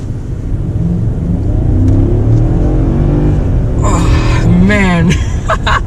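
Mercedes-Benz S550 with all-wheel drive accelerating hard, a steady rumbling engine drone that climbs in pitch, with a person talking over it near the end.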